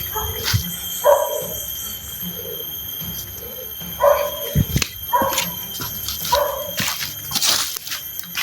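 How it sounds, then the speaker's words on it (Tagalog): A dog barks and yips in several short, sharp bursts spread through the clip, fairly close and loud over a steady background hiss, with a few squealing whimpers between barks. "May aso."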